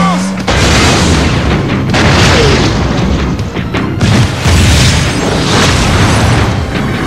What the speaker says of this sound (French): Ça, c'est ce qui s'appelle une explosion